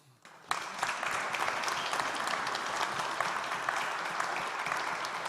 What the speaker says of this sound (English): huge applause to our panelists